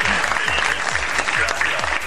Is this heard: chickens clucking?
no